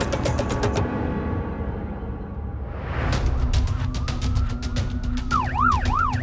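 An ambulance siren wails and yelps over road noise as paramedics rush an injured mountain bike rider to hospital, rising out of a rumbling background into a loud, fast alternating warble.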